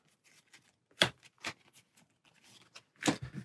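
A deck of cards for the Aeons End card game being shuffled, a few short riffling bursts separated by pauses, close and fairly quiet with no talking.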